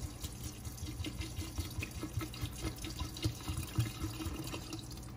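Hennessy cognac is poured steadily into a container, producing a continuous gurgling liquid stream with small splashes, fairly close, with no one speaking.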